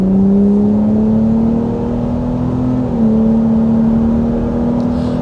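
A 2026 Ford F-150 Raptor accelerates at quarter throttle, its engine holding a loud, smooth drone close to the mic that climbs in pitch, dips at a shift, then rises steadily again.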